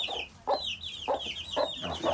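Hens in a henhouse: several short clucks in quick succession, close and moderately loud, with higher chirping calls between them and no voices.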